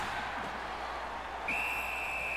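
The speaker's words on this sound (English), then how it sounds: "Puck covered, whistle blown." A referee's whistle blows in an NHL 18 hockey video game, one steady, fairly strong tone that starts midway and holds to the end over a constant crowd and arena hiss.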